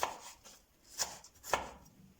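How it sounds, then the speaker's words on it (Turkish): A sharp kitchen knife cubes vegetables, striking three distinct, crisp chops at an unhurried pace, close and clear with no talking over them. "Sebzeleri doğrarken bıçakların keskinliği önemli."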